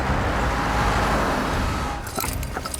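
An Audi V8 car roars past a runner on a road, a loud broadband engine rush for about two seconds that then drops away, leaving lighter clattering and rattling sounds behind.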